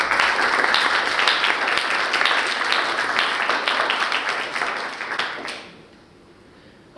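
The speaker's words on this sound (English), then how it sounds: "let's please applaud everyone who is here tonight." Dense, sustained applause from a community meetup audience fills the room, steady and loud for several seconds before dying away into quiet.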